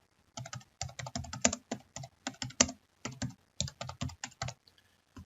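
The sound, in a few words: typing a note on a computer keyboard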